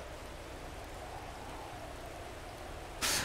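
Steady rain falls in a modded video game, heard as an even, fairly quiet hiss throughout, with a sudden louder burst of noise right at the end.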